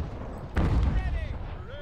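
A mortar fires once in Ultimate General: American Revolution, a single heavy boom that is loud and near, followed by a trailing rumble as a voice talks over the tail.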